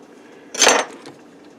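One short knock of a knife or cleaver on a cutting board while cutting grilled barbecue meat, close and fairly crisp against a quiet room.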